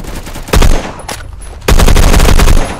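Bursts of FAL Para rifle fire in the Phantom Forces shooter game: loud, dense automatic volleys, a short burst, a lull with a lone shot, then a longer sustained string of rapid shots.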